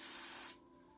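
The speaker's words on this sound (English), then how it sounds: "I'm just gonna spray this" A continuous hissing spray from a spray bottle onto a pre-highlighted wig, lasting about half a second, close and fairly loud, then cutting off to quiet room tone.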